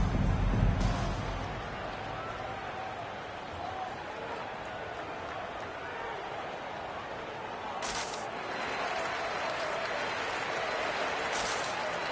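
Crowd noise from a basketball arena during an All-Star game timeout, a steady broad roar with brief louder bursts of cheering partway through, no talk over it.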